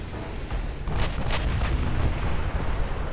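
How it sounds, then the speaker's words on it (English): Shells from 16-inch naval guns striking an armored cruiser in Ultimate Admiral Dreadnoughts: a low rumble swells into three or four sharp, crackling hits about a second apart, with no talk. "16-inch guns hit."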